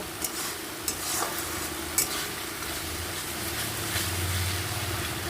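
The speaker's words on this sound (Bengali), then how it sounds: "এই পর্যায়ে বন্ধুরা একটু চিনি দিয়ে দেব এবার সুন্দর করে কষিয়ে নেব" Spice paste with sugar is stir-fried in a pan, a continuous moderate sizzle broken by a few sharp scrapes and taps of a spatula, with no talking.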